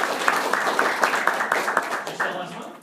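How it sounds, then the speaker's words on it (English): A small group claps during an insurance training session, a short sparse patter of hands that thins out and fades within a few seconds, with a voice faintly beneath it. "Give her a round of applause."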